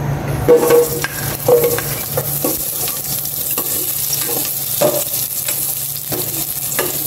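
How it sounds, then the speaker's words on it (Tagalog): Garlic sautés in hot cooking oil with a steady close sizzle and frying hiss, broken by repeated scraping stirs of a utensil against the pan at an irregular pace. "Ilagay mo na yung bawang niya. Gisa-gisa ka na. It's time to gisa po."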